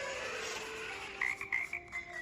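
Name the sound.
frog croaking sound effect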